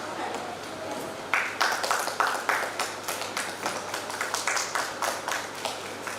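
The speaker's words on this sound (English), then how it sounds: "let's welcome to all our dignitaries with a huge round of applause" Audience at a university research methodology workshop claps to welcome dignitaries, a moderate round of applause that starts after a quiet moment and continues evenly, slightly distant.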